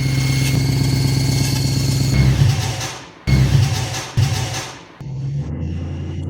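A BMW E92 M3 with its S65 V8 running rough and making abnormal noises, a loud steady engine drone that drops out and surges back a few times, with no talking.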